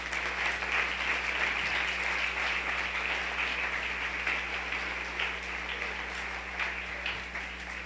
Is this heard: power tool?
no